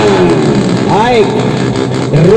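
Drag bikes with loud open exhausts at a drag race in Aceh, their engine noise running under excited commentary throughout.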